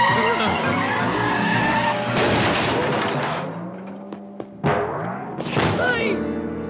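A cartoon truck brakes hard, its tires squealing and skidding loudly for a few seconds, then a long descending screech fades before short bangs and scattered clatter follow.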